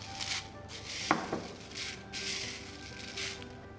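Fully dried rose petals, left to dry for days for homemade soap, crackle and rustle softly as they are handled, with a few crisp snaps among quiet, papery rubbing close by.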